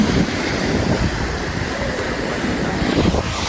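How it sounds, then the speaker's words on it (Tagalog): Rough surf crashes and rolls continuously on the coast of Zambales, Philippines, mixed with wind buffeting the microphone; a dense, unbroken roar of high waves. "ang tataas ng alon"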